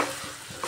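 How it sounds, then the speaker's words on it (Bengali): Fish and taro stems fried with spices in a pan give a brief, steady sizzle with soft stirring scrapes. "একটু ভালো করে কষিয়ে নিচ্ছি।"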